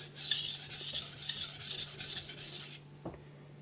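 A blade strokes across a sharpening stone under very light pressure, producing a soft, continuous abrasive rasp for nearly three seconds, then stopping with a small tap; no voices.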